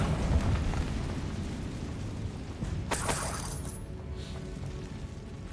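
A Bombarda blasting spell goes off in Hogwarts Legacy: one loud, sharp burst with a crackling spray, then a rumbling tail under a steady low roar.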